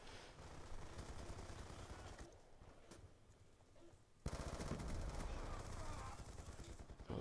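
Machine gun fire in the video game Call of Duty Black Ops II: dense, continuous automatic bursts that drop to a quieter stretch midway, then come back louder and closer, with a voice talking underneath.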